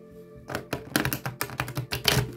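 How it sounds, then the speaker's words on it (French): A deck of stiff tarot cards is shuffled by hand, producing a quick run of close, crisp riffling taps and slaps in an irregular rhythm. "mélanger les cartes. Elles sont dures et j'ai mal à la main"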